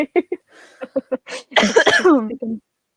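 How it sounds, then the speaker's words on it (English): A person with a lingering cough coughs and clears their throat in a string of short bursts, then a longer rough, voiced coughing fit trails off. "I'm so sorry, guys, that I'm coughing all the time"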